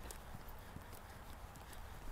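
Horse hooves clip-clop at a steady trot during a riding lesson, the even beats close and distinct, with no talk over them.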